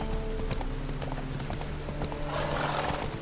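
Horse hooves trot steadily in the video game The Witcher 3, a quick rhythmic clip-clop that runs through the whole stretch over a low ambient bed, with a brief whinny-like tone.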